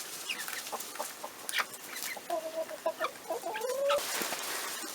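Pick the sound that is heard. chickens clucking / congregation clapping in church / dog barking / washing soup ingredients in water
chickens clucking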